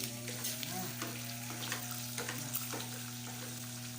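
Adobo sa asin, a Bicol-style salted pork dish, sizzles and crackles in its own rendered fat, with a steady frying hiss and occasional stir clinks close by, plus a low steady hum underneath.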